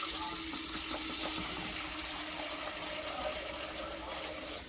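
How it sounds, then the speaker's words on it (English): Hands are washed under a running kitchen tap before making pumpkin sugar cookies, a steady close hiss of water splashing into the sink with no talking. "So I'm going to quickly wash my hands"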